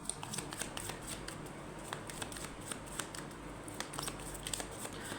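Tarot cards being shuffled by hand, a steady run of soft, papery riffling clicks held close and fairly quiet throughout, with no talking over it.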